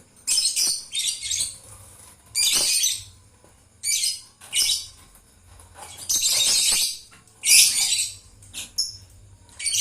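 Lovebirds in a colony at night chirp in bursts of high, bright tweets and squawks, clustered and overlapping, close and fairly loud, with short quiet gaps between the bursts.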